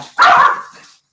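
A single sharp dog bark rings out close and loud, then quickly fades into silence.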